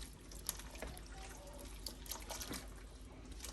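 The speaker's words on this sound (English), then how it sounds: "I think I'm going to add some more water" Water is poured into a big pot of Italian tortellini soup, a soft continuous trickling and splashing with faint clinks, fairly quiet and with no talking.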